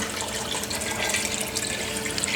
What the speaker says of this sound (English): So now I'm going to add the rest of the water, which I've let cool a little bit, so it's not quite boiling.